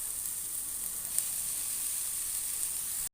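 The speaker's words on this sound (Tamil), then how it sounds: "நல்லா வதக்கிக்கலாம்." Puffed rice tossed and sautéed in a pan with turmeric, an even, continuous dry sizzling hiss that holds steady and then cuts off abruptly.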